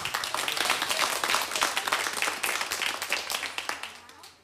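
A stage show audience applauds in a dense burst of many hands clapping, loud and close at first, then thinning and fading toward the end.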